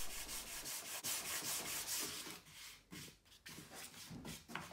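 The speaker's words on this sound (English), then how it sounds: "Anthony just smooths everything up with some sandpaper" Sandpaper rubs back and forth over a wooden aircraft spar, smoothing a chamfered edge with quick, close, raspy strokes that grow more irregular toward the end.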